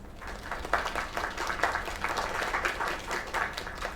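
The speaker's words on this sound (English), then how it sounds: "Another round of applause." Steady applause from a crowd, continuous clapping that stays at an even level throughout.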